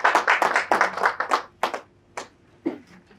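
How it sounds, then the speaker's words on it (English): Audience applause at a police and institute MOU signing ceremony, a burst of clapping that thins out into scattered claps over about three seconds, no voices. "ladies and gentlemen, a round of applause for the Institute"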